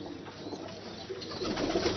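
Pigeons coo in a Lahore loft holding Ali Wale breeding pairs and young birds, a low murmuring that runs steadily through the clip and swells a little toward the end, with no voices.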